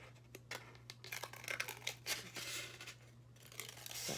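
Scissors snip through a styrofoam cup along a curved line, a series of quiet crisp cuts and faint squeaky scraping close by, with a low steady hum underneath.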